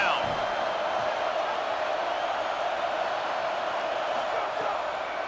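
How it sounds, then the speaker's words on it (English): A stadium crowd roars steadily and loudly on third down in a college football video game, Penn State against Michigan State, making a dense, sustained wall of cheering that holds its level throughout. "Decibels rising as the crowd gets behind this defense on third down."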